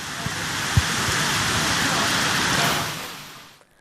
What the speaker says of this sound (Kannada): ಮಹಾನಗರದ ಸಾಕಷ್ಟು ಏರಿಯಾಗಳಲ್ಲಿ ಇವತ್ತು ಮಳೆಯ ಆರ್ಭಟ ಜೋರಾಗಿ ಇತ್ತು